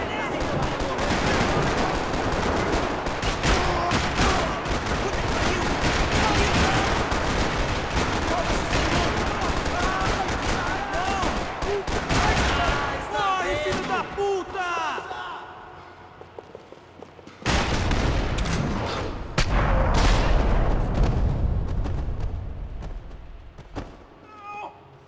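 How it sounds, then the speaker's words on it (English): Sustained rattling gunfire fills a Max Payne 3 parking-lot shootout, dense bursts over a busy mix for most of the stretch, dropping briefly near the middle before loud firing resumes, with some voices mixed in. "Another parking lot rattling with gunfire."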